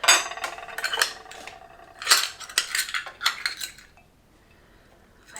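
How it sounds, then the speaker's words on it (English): A spoon clinks and scrapes against a bowl while a homemade healthy fast-food style recipe mixture is stirred, giving a series of irregular metallic taps and scrapes in bursts, fairly close, with no talking. "Now, let's stir it up."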